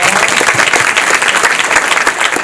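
Audience applause at a panel discussion on minority-owned businesses, a loud, continuous burst of many hands clapping close to the microphone throughout.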